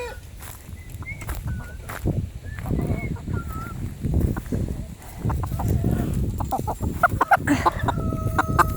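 Old hens and a rooster cluck and call close by in a backyard coop area, with short squawks and steady farmyard bustle throughout.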